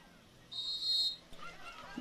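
A whistle signals the start of a mountain bike race, one sustained shrill blast at moderate distance, followed by faint crowd and ambient noise.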